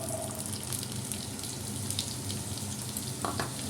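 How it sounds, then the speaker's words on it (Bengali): Potato pieces frying with green chilli and nigella seeds in a pan, a continuous close sizzle with a little watery bubbling and a brief clink near the end; no voices. "এই আলুগুলো আগে একটু ভেজে নিই"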